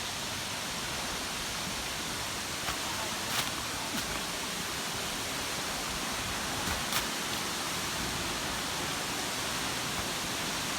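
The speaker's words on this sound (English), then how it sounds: "Okay, so we are finally at the Wli Waterfalls." Wli Waterfall, the highest waterfall in West Africa, pours in a steady, loud, unbroken roar of falling water that fills the whole scene.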